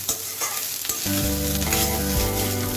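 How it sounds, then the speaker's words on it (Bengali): Carrot pieces sizzle and fry in a pan while being stirred, a steady crackling hiss with scraping stirs, and a tonal hum enters partway through; no one speaks. "গাজরটাকে নেড়ে ছেড়ে আমরা একটু ভেজে নিচ্ছি"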